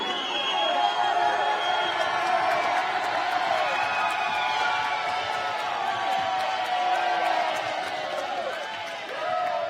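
Crowd cheering and whooping fills a Team Combat League fight venue after an LA Elite victory, a steady loud roar of many voices with shouts rising above it, continuous throughout.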